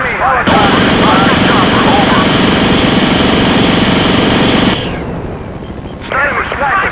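A helicopter's rotor and engine drone loudly and continuously in a Battlefield 2 match, with gunfire mixed in, before the noise abruptly drops away and returns.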